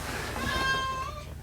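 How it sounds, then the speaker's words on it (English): A cat meows once indoors, a single drawn-out rising and falling cry, fairly close and clear over a low background hum. "now the damn cat's in here"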